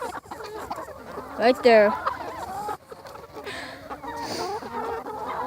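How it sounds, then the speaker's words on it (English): Chickens and a rooster on a farm clucking and squawking up close, a busy overlapping chorus with one louder burst partway through, while a person talks briefly over it. "A lot of chickens."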